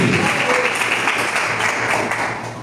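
A church congregation applauds in praise, a dense, steady wash of clapping filling the room and easing slightly toward the end.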